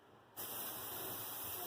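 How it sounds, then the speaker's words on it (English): Cooking spray hisses steadily from an aerosol can into a crock pot, starting abruptly after a short quiet moment and continuing as a close, loud, even spray. "first of all, spray my crock pot"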